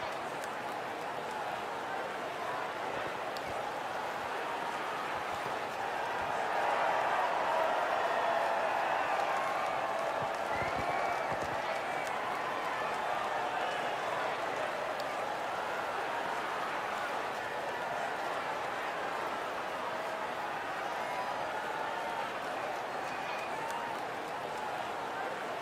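Distant crowd cheering and applause in the F1 24 racing video game swell faintly beneath a commentator's voice, rising briefly before settling into a steady murmur.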